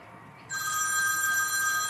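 Smartwatch find-my-phone feature sets a phone ringing: a sudden, steady electronic ring starts halfway through and carries on loud and unbroken to the end, with no talk over it.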